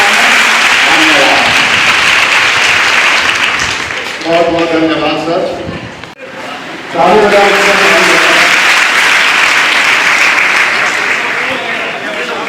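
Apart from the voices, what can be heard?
loud applause from students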